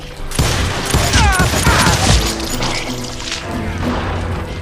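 Gunfire and impacts crash through a Wild West shootout in Call of Juarez: Gunslinger, a loud dense barrage of shots with a lingering noisy tail.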